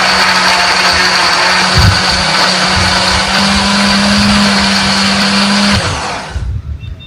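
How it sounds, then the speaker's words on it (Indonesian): An electric blender grinds green chili, shallots, candlenuts, garlic and pepper with a little water, whirring in a loud, steady high whine for several seconds before it switches off and winds down. "tambahkan sedikit air supaya lebih gampang untuk menghaluskannya."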